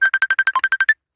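A phone ringtone of about eleven quick, evenly spaced electronic beeps at one bright pitch, with one lower note partway through, then silence.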